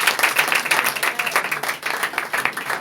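A church congregation applauding the Lord during a worship service, with dense, steady clapping from a crowd that carries on loudly throughout without a break.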